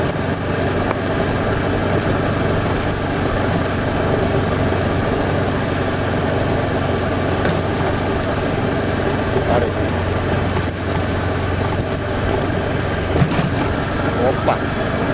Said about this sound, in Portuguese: Eu adoro passear de moto